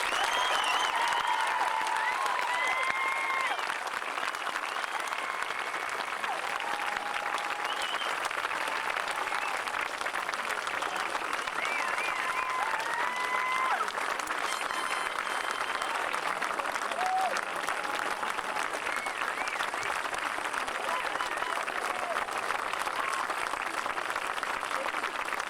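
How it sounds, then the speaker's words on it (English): Sustained applause from an outdoor audience at a 2005 high school graduation ceremony in Douglas, Massachusetts, a dense steady wash of many hands clapping with faint cheers and whistles, continuing evenly throughout. "I think they deserve a nice, loud round of applause"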